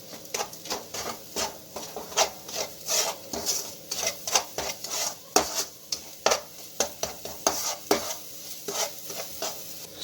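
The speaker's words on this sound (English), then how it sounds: "and mix well again." Powdered sugar being stirred into green chilli halwa, a spoon scraping and rubbing around the pan in steady repeated strokes, fairly close and loud with a faint sizzle beneath, no talking.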